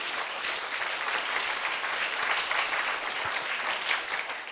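A church congregation applauds during a sermon, a dense, even wash of many hands clapping together, sustained at a steady level throughout with no voices over it.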